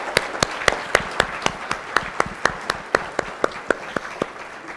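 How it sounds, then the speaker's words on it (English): Audience applause at an academic excellence awards ceremony: a steady round of clapping from a crowd, with sharp individual claps standing out at a regular beat over the dense background patter, fading slightly toward the end. "let's give ourselves a round of applause and our peers"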